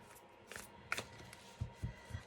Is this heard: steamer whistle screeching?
no